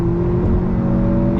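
A 2018–2021 Honda Accord 2.0t fitted with a PRL 3-inch front pipe accelerates. From inside the cabin it comes across as a loud, steady engine drone with a low hum and no talking.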